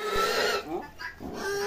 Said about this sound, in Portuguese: Aí o caba tá levando aqui um porco